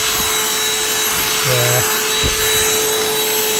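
Small handheld vacuum cleaner running steadily while cleaning up a garden shed, a loud, close, continuous whine and roar throughout, with a brief voice over it.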